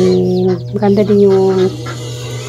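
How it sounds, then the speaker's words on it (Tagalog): Chickens cluck loudly and close by while they feed alongside ducks in a rural provincial yard, and a person briefly speaks over the birds. "Yung mga manok, pato na kumakain, lalaro."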